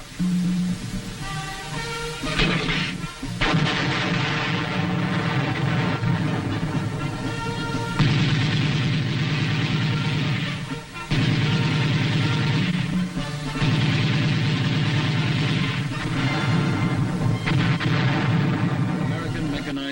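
Heavy gunfire from armored vehicles and tanks in the Vietnam War: dense, continuous booming and blasts with a deep rumble, loud and sustained, with a few brief lulls and possible voices mixed in.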